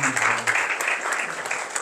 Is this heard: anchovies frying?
no